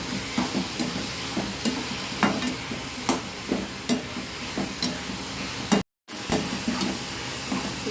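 Tomatoes and a little tamarind sautéing in a pan for tomato-coriander chutney, with steady close sizzling and repeated spoon-stirring scrapes in an irregular rhythm, and a brief dropout near the end.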